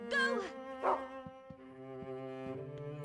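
A dog in the survival horror video game Rule of Rose gives two short, sharp barks close up, followed by softer whimpering tones under a sustained musical drone.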